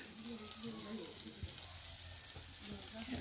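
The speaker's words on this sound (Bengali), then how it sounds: "আদার পেস্টটা দিয়ে দিলাম" Ginger paste sizzling in hot oil in a pan while cooking peas, a steady close frying hiss with faint stirring scrapes throughout and no talk.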